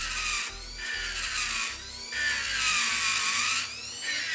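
Electric nail drill fitted with a medium bit spinning at top speed, a loud, close, high-pitched whine that rises and dips in a few pulses, with no talking.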